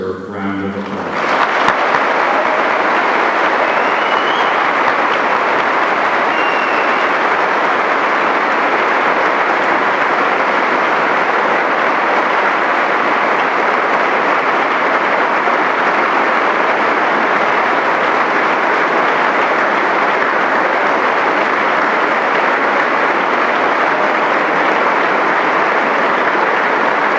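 A graduation ceremony audience bursts into loud, sustained applause after a voice briefly speaks, the clapping holding steady and dense from a large crowd throughout.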